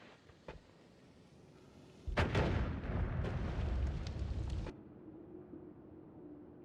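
A bomb detonating in the pixel game Noita: a small pop, then a heavy roaring blast that rumbles for about two seconds and cuts off sharply, loud against quiet background.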